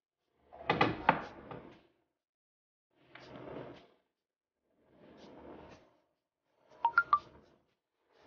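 A mobile phone rings indoors in four short bursts about two seconds apart, fairly faint against an otherwise silent room, with nobody speaking.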